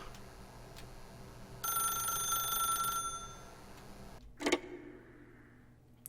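A telephone rings in The Stanley Parable video game in one bright, metallic burst of about a second and a half over a quiet hum, followed by a short clunk.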